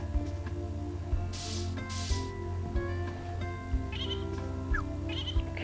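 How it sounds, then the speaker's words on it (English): Baby sheep bleating in the farming video game Harvest Moon: Tree of Tranquility, several short bleats scattered over steady game background music. "Another sheep there, a baby sheep."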